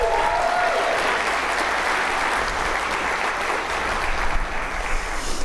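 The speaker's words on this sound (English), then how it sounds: "Why don't we give them another round of applause?" Audience at a State of the City event applauding in a steady, dense wash of clapping that fills the hall, loud and unbroken throughout with no talk over it.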